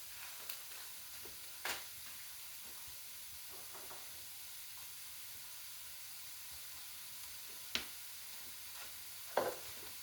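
Chicken fried cauliflower rice gets stir-fried in a pan, a soft steady sizzle running throughout with a few sharp scrapes and clacks of the spatula against the pan, close and fairly quiet.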